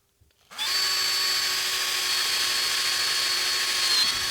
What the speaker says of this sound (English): So yeah, let's drill this hole.